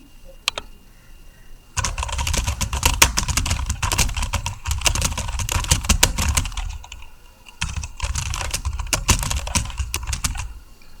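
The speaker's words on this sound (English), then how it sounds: "I can type in Hindi on my computer" Fast typing on a computer keyboard entering Hindi text into a Word document, heard close up as dense bursts of clicky keystrokes with a short pause near the middle, no voices.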